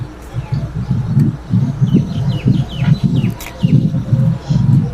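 Birds call steadily at the hawk enclosure of a family park in Jessore, with rhythmic, low, cooing pulses repeating close by and thin, higher chirps over them, and no talk.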